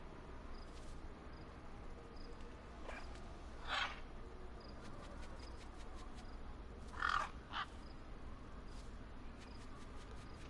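A crow caws twice, a few seconds apart, at moderate distance over a faint, steady outdoor background hum.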